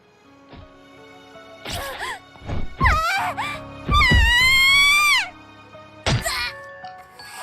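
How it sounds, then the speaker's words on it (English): Screams in the Corpse Party horror game, several wailing, pitch-bending cries in separate bursts, the longest held shrill and loud before breaking off, with quiet gaps between. "I've never heard screaming like this before. It's pure primal terror cutting through the air like a perfect sine wave."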